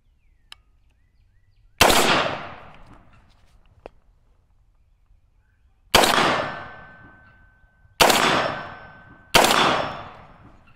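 A Radical Firearms AR15 rifle fires four loud, close shots outdoors. Each crack is followed by a long decaying echo, with the last three shots coming in quicker succession.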